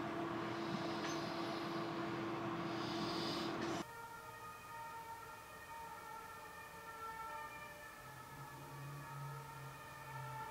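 A fire brigade siren wails outdoors at a distance, faint and muffled as if heard from inside a room, with a steady low tonal drone continuing after an abrupt drop in background level.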